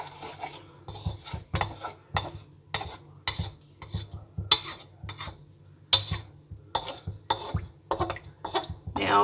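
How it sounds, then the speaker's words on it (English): A spoon scrapes and stirs through a pot of food on a homestead stove, a steady series of rhythmic rasping strokes, close and moderately loud, with no talking. "Give that a big stir in."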